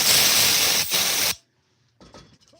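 A spray can of brake cleaner running nearly empty lets out a loud, close, sputtering hiss for just over a second, then cuts off into near silence before a few faint rustles.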